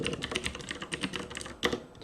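A password being typed on a computer keyboard, a steady run of quick, close key clicks with one slightly harder keystroke near the end, no talking.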